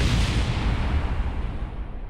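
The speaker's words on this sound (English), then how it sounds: "So here we go, about to blow up" A rocket blows up in Kerbal Space Program, a dense, roaring game explosion that fills the whole moment with loud, rumbling noise and slowly thins toward the end, with no talking over it.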